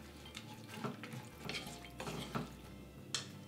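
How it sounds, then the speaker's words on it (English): Sticky rice cake mixture with dates is stirred in a pot, soft scraping and clinking strokes repeating at a slow, uneven pace, quiet and close with a faint hum underneath. "And mix this well together."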